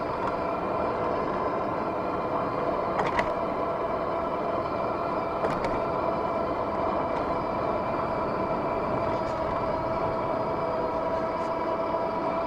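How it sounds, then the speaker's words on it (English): A Fiido T1 Pro electric bike motor gives a steady, faint whine under constant road and wind noise during a ride, with a few light clicks and no speech. "There's a little bit of a whine from the motor."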